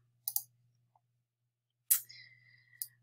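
Sharp, close computer mouse clicks come in quick pairs, with a faint click between them, then a louder click followed by a brief soft whir and one last click, all over a low steady hum.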